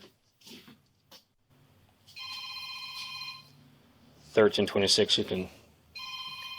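A telephone rings in repeated electronic bursts during a police property search, with a person speaking briefly between the rings.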